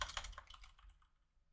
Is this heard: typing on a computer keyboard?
yes